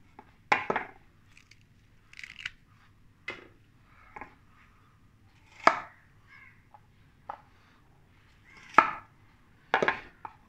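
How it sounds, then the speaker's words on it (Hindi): Onions being cut into cubes for chilli chicken, a knife striking a cutting board in about eight separate crisp chops spaced irregularly, close and clear with no talking. "चिली चिकन में ऑनियन जो है क्यूब्स काट के यूज़ करते हैं"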